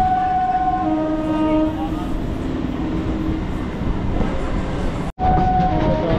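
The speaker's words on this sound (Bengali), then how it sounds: "আমাদের ট্রেন ছেড়েছে শিয়ালদা স্টেশন থেকে নামখানা লোকাল" A Namkhana local train out of Sealdah rumbles loudly along the rails with a continuous clatter and drone, a long horn-like tone sounding early, then a brief dropout before the rumble resumes.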